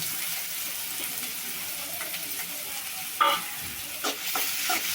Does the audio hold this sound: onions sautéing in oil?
yes